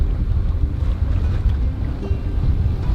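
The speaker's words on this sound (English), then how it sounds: "Now we're sailing. We've got some breeze now and she's doing really well." Sailboat sailing close-hauled in a fresh breeze at about six knots, a continuous low rush of wind and water against the hull, buffeting the microphone with no voices.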